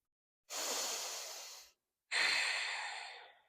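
Two long, audible breaths taken while holding a deep malasana squat in a slow yoga flow. The first lasts about a second, then a pause, then a second fuller breath. Both are close and soft, with no talk.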